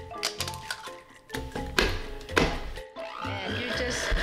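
Eggs are cracked into a mixing bowl for pound cake batter, with a series of close, sharp cracks, shell taps and wet plops coming in quick irregular succession.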